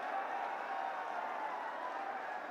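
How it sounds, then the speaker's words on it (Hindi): Sustained applause rises from a large crowd at a Rahul Gandhi political rally in Mewat, Haryana, a continuous, far-off patter of many hands with no break. "हाथ उठा करके सब तालियां बजाते रहें जब तक।"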